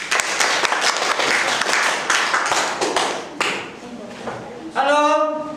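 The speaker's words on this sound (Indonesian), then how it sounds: "baik untuk kelompok 3 kita kasih aplaus" Classroom applause for a student group after their presentation during a teaching-practice economics lesson, a few seconds of steady clapping from a room of people that tapers off, followed by a brief voice.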